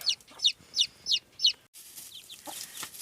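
A hen clucks close by in five quick, evenly spaced calls, then softer scattered chirps from newly hatched chicks follow.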